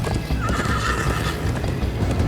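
A horse in the Minecraft Story Mode video game gallops with steady clip-clop hoofbeats and gives a drawn-out neigh, loud and close, with no talking.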